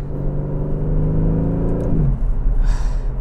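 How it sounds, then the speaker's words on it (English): A 2020 Aston Martin DB11 Volante with a Mercedes-Benz twin-turbocharged V8 and ZF 8-speed gearbox holds a deep, loud rumble that rises, then falls away after a shift, with a brief airy whoosh near the end. "The ZF 8-speed pairs so well with this turbocharged V8 from Mercedes-Benz."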